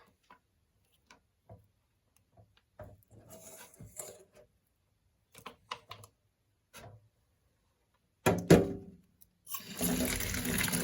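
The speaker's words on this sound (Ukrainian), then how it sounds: "Заливаю водичкою." Water poured over budgie seed feed to soak it, quiet clicks and small handling sounds at first, then a louder splashing pour and a steady trickling rush near the end.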